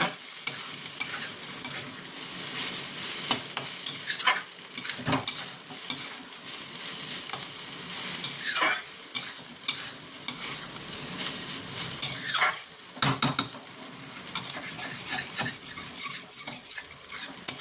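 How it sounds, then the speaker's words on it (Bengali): A vegetable mixture frying in a pan with no spices as its water cooks off, a continuous sizzle broken by repeated scraping and stirring strokes of a utensil against the metal, close and fairly loud, with no talking. "আমি কোনো মশলা না দিয়ে প্রথমে এটাকে ভালো মতন ভেজে নিচ্ছি। এই জলগুলো আমি শুকিয়ে নিচ্ছি।"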